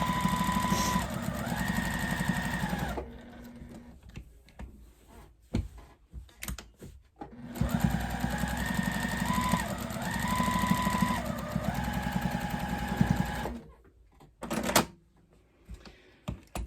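Sewing machine stitching around the outer edge of a quilted table runner, two long steady runs of rapid motor whir and needle clatter separated by a pause with brief handling clicks, close and loud.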